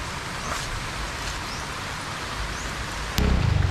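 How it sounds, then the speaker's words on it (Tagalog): Rain falls as a steady, hissing patter that fills the scene, with a louder, closer thumping burst near the end. "At umuulan na."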